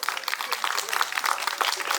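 An audience applauds at an International Women's Day and Holi celebration, with steady, dense clapping from many hands at moderate loudness throughout.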